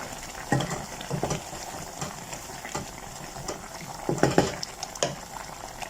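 Mixed vegetable soup of pumpkin, carrots, potato and zucchini reaching a boil in a pot, a low steady bubbling hiss with soft irregular pops and a few louder clinks or stirs, close by and without talk.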